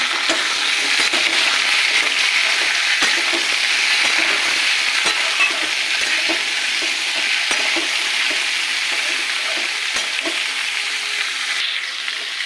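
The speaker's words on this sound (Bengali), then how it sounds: "আর দেবো কুমড়ো, শিম আর কাঁচা লঙ্কা চেরা। ভালো করে ভেজে নেব।" Pumpkin, flat beans and slit green chilies frying in a pan, a loud, continuous crackling sizzle with scattered clicks of stirring, steady and close throughout, no talking.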